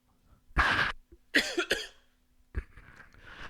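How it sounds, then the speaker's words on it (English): A few sharp, close coughs in quick bursts, separated by brief pauses, with no talking. "sorry, I had a cough"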